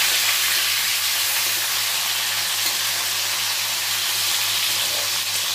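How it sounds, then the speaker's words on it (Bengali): A whole fish rubbed with turmeric fries in hot oil in a pan for a Bengali fish curry, giving a steady, loud, continuous sizzle with a low hum beneath and no talking. "ভেজে নিই পুরো মাছটা।"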